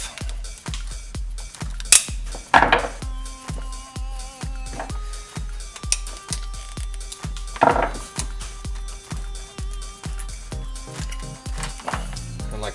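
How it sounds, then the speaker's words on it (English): Small clamps on a fuel filter housing snapped open and the top half lifted off, giving a quick run of close plastic clicks, knocks and clatter with a few sharper snaps, no talking. "there's a couple of little clamps here. You're going to pop them open, and the top half will come off"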